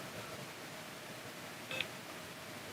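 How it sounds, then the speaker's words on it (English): A short, quiet electronic beep from ROKiT Life EYE Q smart audio glasses powering on, a brief tonal chirp standing out over faint steady background hiss. "There, beep."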